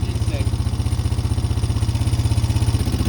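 A small engine runs with a fast, steady, loud chugging pulse close by, a rough idle-like beat held for a few seconds, with no speech over it.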